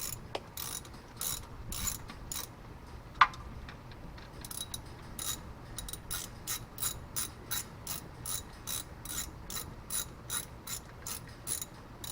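A hand ratchet snugs up bolts on a Roadrunner car during rear main seal work. It clicks in steady, rapid runs of sharp ticks that continue throughout, with one louder metallic clank early on.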